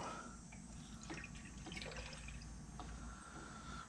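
Coolant trickles and gurgles as it fills the radiator of a Polaris General XP 1000 during a thermostat replacement, a quiet steady pour with faint drips and splashes close by.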